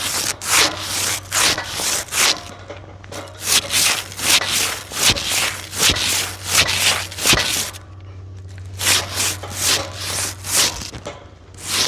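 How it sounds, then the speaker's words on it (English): A stiff brush scrubs rosin off a bull rope in quick, rhythmic strokes, each one a loud close scratchy rasp, with a brief pause partway through before the scrubbing resumes. "hit it with the brush, and that'll just help break off any of the chunks of rosin"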